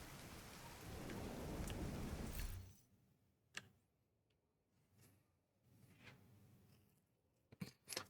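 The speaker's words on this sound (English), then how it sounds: "it's fucking raining in the game and just being a storm" A video game thunderstorm opens with a loud, dense rumble of rain and thunder that cuts off abruptly, leaving quieter patter with sharp cracks and rumbles rising again toward the end, with no talk.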